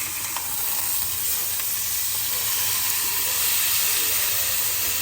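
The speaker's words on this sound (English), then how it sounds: "We just gotta sear off this other side" An Akaushi chuck roast sears in a hot pan with a steady, loud, unbroken sizzle that stays close and even throughout.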